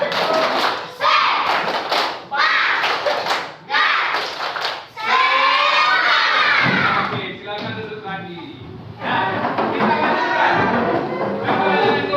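Schoolchildren in a classroom perform a rhythmic clapping cheer called tepuk semangat, with sharp bursts of group claps in a patterned sequence, followed by loud chanting voices.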